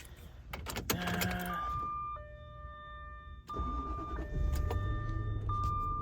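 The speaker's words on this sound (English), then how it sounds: "The car started, no problem, no nothing." A 2000 Jaguar S-type with a 4.0 V8 is started, with jangling keys and a brief crank before the engine catches and settles into a steady idle, with electronic chime tones sounding over it.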